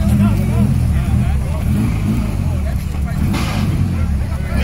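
A turbocharged Chevrolet Chevette revs hard nearby, its deep, loud engine roar rumbling steadily throughout, with voices of onlookers faintly mixed in.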